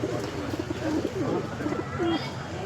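Pigeons coo in repeated low warbling phrases at a busy outdoor market, close and fairly loud over a constant crowd murmur and background chatter.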